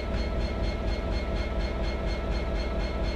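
A train passes on the Settle to Carlisle line in Train Simulator 2017, making a loud, continuous rolling rumble with a soft rhythmic pulsing of wheels over rails throughout.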